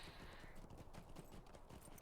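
Festival horses in the online game The Lord of the Rings Online clip-clop along in a soft, steady run of hoofbeats, faint and close, with no talking.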